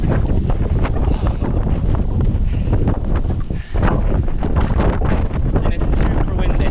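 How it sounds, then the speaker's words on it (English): Strong wind batters the microphone aboard a sailboat near an anchorage on the Sicilian coast, a loud, constant roar with gusting swells, and a person speaks under it. "And it's super windy"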